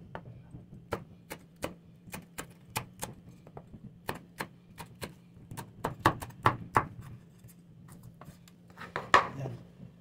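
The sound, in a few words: knife slicing onions lengthwise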